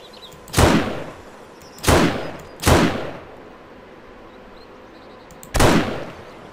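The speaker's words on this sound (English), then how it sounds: "I cannot shoot for the life of me." Four separate gunshots in the video game 7 Days to Die, three in quick irregular succession and a fourth after a pause, each a sharp loud crack with a short decay over quiet background.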